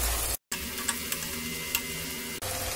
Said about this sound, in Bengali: প্রথমে পেঁয়াজ কুচি দিলাম, গ্যাসটা মাঝারি মানে মিডিয়ামে করে পেঁয়াজটা ভেজে নেব